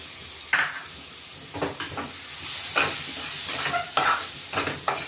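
Tomato masala sautéing in oil in a pan for malai palak, loud sizzling hiss broken by repeated close stirring scrapes of a spoon against the pan.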